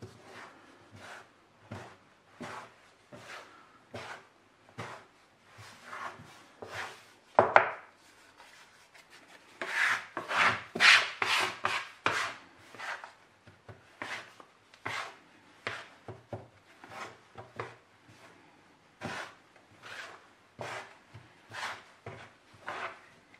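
Pastry scraper working fresh egg pasta dough on a board: steady, close, rhythmic scraping and knocking strokes that repeat over and over, with a busier, louder stretch in the middle and no talking.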